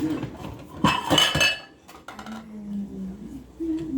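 A big orange bowl is pulled from a home kitchen cupboard, giving a burst of close clattering and clinking dishes, then a brief knock and quieter shuffling with faint low voices.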